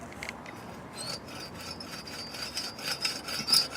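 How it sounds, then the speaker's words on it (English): A cordless adobe saw cuts through a semi-stabilized adobe block with a quiet, gritty rasping in short repeated strokes, close and fairly faint. "we start with our cordless adobe saw"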